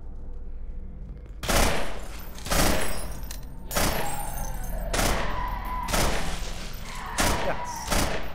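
Gunfire in the video game Underhell rings out in loud, sharp bursts, roughly seven heavy shots spaced about a second apart, each with a booming tail.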